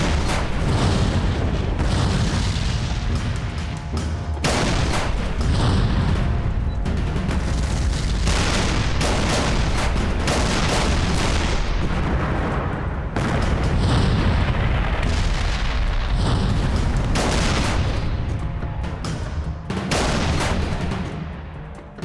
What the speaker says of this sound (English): an immense artillery barrage approached us